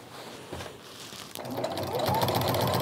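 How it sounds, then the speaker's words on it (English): Domestic sewing machine stitching a quilt with a walking foot, a steady mechanical whir and rapid needle chatter that starts quieter, pauses briefly, then runs louder and continuous to the end, with no talking. "and then do a little bit more sewing."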